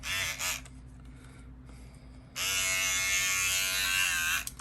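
A Wahl model 5622 hair clipper gives a couple of brief buzzes, then switches on and runs with a steady, loud, close electric hum for the final couple of seconds.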